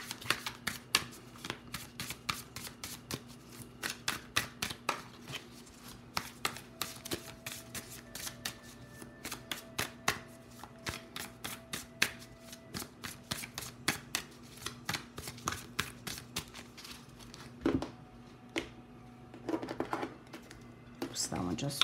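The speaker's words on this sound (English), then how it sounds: "So let's shuffle this deck." Gilded Tarot Royale deck being shuffled by hand, rapid close crisp card riffles and taps in irregular bursts, with faint talking in the background at times.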